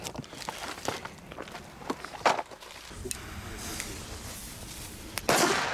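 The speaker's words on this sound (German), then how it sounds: "wir zünden 2 Päckchen A-Böller und 1 Päckchen D-Böller" Packs of German A-Böller and D-Böller firecrackers going off outdoors, a ragged run of sharp cracks and pops, some spaced and some bunched, ending in a louder burst.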